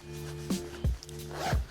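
The pocket zippers on a Cotopaxi Fuego hooded down jacket are opened and closed in a few quick, smooth zips. They are close and crisp, with short rasping sweeps and quiet fabric rustle in between.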